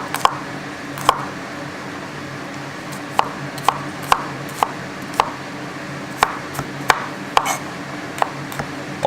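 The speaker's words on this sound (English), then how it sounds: "Right here you could cut it and mince it." Garlic cloves being cut and minced with a knife on a cutting board, close and distinct: single crisp chops spaced irregularly, then quicker clustered taps, with no talking.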